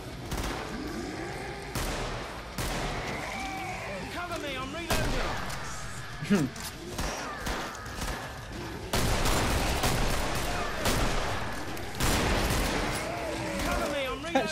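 Heavy, repeated shotgun blasts in the co-op shooter Killing Floor, loud, close bursts firing in an irregular rhythm over continuous battle noise, with a voice murmuring briefly in between.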